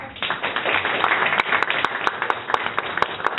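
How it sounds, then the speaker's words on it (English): An audience applauds a speaker at a startup pitch and networking event in a coworking space, a dense, steady patter of many hands clapping close by for several seconds, with a few sharper individual claps standing out. "A big applause for Christina, please."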